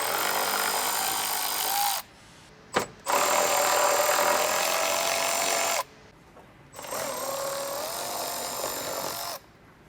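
A power tool, likely an impact driver or drill, removes 10mm bolts from the wheel well of a 2014–2024 Toyota 4Runner during a bumper valance install, running in three long, loud, steady bursts separated by brief pauses.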